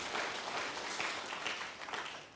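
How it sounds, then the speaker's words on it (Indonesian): A church congregation claps during a sermon: a steady, dense patter of many hands, fairly distant and soft, running throughout without pause. "Tepuk tangan bagi dia, saudara"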